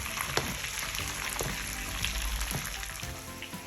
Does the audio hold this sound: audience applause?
no